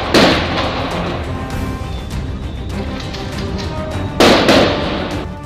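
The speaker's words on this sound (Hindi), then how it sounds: "मुल्जिमान की जानिब से मुस्तकिल गोलियां बरसती रहीं" Repeated sharp gunshots crack out during a shootout between police and robbers in Karachi, two loud bursts standing out amid a dense, continuous rattle of firing.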